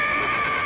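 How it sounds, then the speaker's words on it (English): A horse gives one short, loud whinny close by, a brief bright neigh lasting under a second, alone without talk. "I thought I heard a horse"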